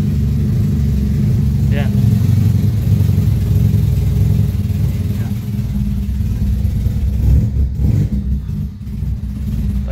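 A 1992 Honda EG car engine with an ECU fault runs with a steady, rough low rumble close by, its note wavering slightly, while a voice talks over it.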